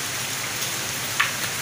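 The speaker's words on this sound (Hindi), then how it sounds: "अभी इतनी बारिश आ रही है" Heavy rain falls steadily as a dense, even hiss, with one brief brighter splash partway through.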